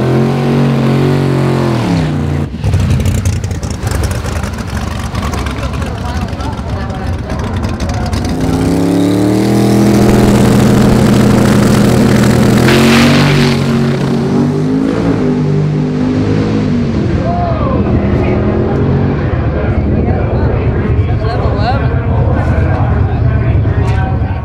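A drag race car launches and accelerates hard down the strip on a pass at Drag Week, its loud engine roaring and climbing in pitch with shifts, close and continuous, with people talking over it.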